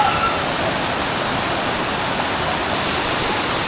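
A waterfall at Dalitiwan Resort in Majayjay, Laguna, fed by clear mountain water from Mount Banahaw, roars as a steady, loud, unbroken rush of water from start to finish, with no voices.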